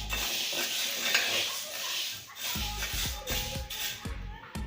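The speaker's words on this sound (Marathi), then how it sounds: "बघा आता कढई तापली, आपण हे मठ भाजून घेऊ." Moth beans are stirred and dry-roasted in a hot kadhai: a close, continuous scraping and shuffling of grains against metal, with sharp spoon knocks on the pan toward the end.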